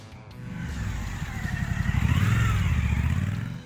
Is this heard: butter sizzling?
no